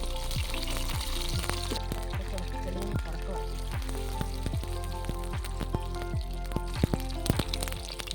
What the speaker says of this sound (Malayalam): എണ്ണ ചൂടായിട്ടുണ്ട് കടുകിട്ട്